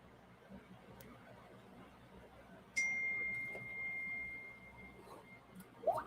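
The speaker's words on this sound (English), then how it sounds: "I got a text message." Text message notification on a phone, a single clear electronic ding that rings out and sustains briefly over a quiet room background, with a faint click earlier.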